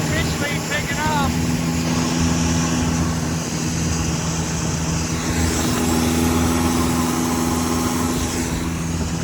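A turbo longtail boat engine drones loud and steady as the craft sets off across open water in Thailand, with a voice talking over it partway.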